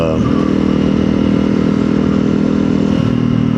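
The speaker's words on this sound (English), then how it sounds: "there's just something about a lightweight bike that's responsive and playful like this. And it sounds freaking awesome at this point." A Honda CRF300L motorcycle with a stage 1 ECU holds a loud, steady engine drone close by for the whole stretch, with a brief dip in pitch near the end as the revs change.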